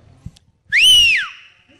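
A single clear whistled note rises, holds, then slides downward, loud and close, preceded by a few faint knocks.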